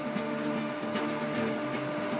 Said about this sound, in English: just sew over the edges here. Double stitch.